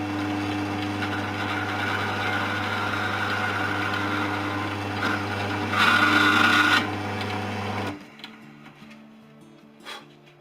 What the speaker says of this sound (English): I'm just going to run the drill through here, through the first hole.